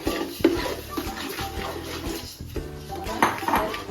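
Roasted halim seeds being mixed into hot jaggery syrup in a pan, with scraping spoon strokes and clinks of metal against the pan in an uneven rhythm, close and moderately loud.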